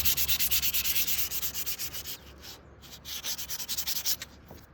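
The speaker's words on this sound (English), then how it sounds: "sand this part here, and that will be a perfect finish for first coat of paint" Sanding over wood filler on an old door, a steady run of rhythmic back-and-forth strokes, loud and close, easing briefly in the middle before picking up again, with no talking.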